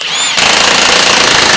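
An impact wrench hammers a part into an NP231 transfer case being rebuilt, a loud, close, continuous rattling burst that kicks in after a short moment of quieter noise.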